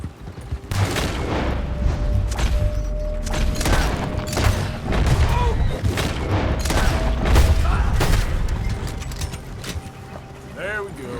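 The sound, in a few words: gunfire in the video game Red Dead Redemption 2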